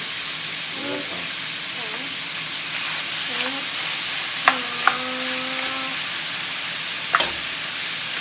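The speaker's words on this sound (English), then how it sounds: "We'll just keep sauteing the meat." Ground meat for shepherd's pie sautés in a pan with a constant, even sizzle. There are occasional light scrapes and taps of a utensil, and a voice speaks briefly over the frying.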